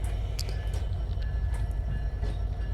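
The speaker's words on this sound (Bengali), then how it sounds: "প্ল্যাটফর্ম থেকে মূল বগিটি চলে আসছে" A railway coach rolls slowly away from a station platform for a line change, its low rumble and wheel noise steady and close, with faint squeals and clanks over the top.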